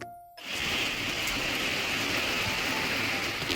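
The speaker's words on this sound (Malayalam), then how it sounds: "പിന്നെ പുറത്ത് നല്ല മഴയാണ് കേട്ടോ." Heavy rain pours outside a house at night, a dense, steady roaring hiss that begins abruptly after a brief quiet moment and continues evenly throughout.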